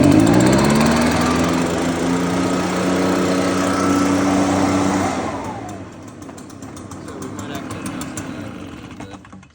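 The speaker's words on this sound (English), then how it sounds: "let's turn choke off" An Echo PB580T backpack leaf blower engine runs loud and close after a carburetor change, holding a high buzzing drone, then dropping to a rougher, lower idle as the choke is turned off.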